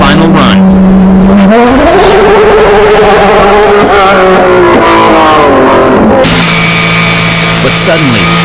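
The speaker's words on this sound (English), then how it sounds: "The car was turning into the corner with much sharpness and accelerating out with great traction." A race car driven by Keiichi Tsuchiya corners sharply on track and accelerates hard out of the turn, loud and close, its engine note climbing through the gears before a high-pitched whine takes over near the end.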